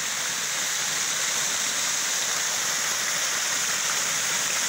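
Small Jacutinga waterfall pouring steadily into a shallow pool of cold water, a continuous close wash of rushing water with no voices.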